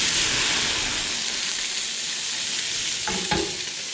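Fish sizzles steadily in butter in a pan, a dense close hiss throughout, with a brief knock near the end as lemon is added.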